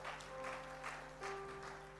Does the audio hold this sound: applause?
yes